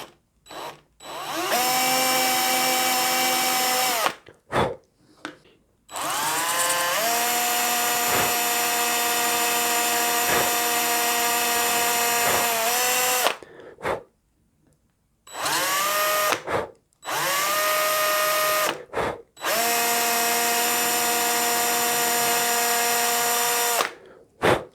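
A power drill bores a hole through a guitar headstock logo, its high steady whine running in several long bursts separated by brief silences, close and loud.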